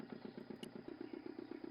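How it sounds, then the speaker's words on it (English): A motor in the video game Broken Sword 2 splutters into life, settling into an even, rapid putt-putt chugging with a brief tap partway through. "The motor spluttered into life."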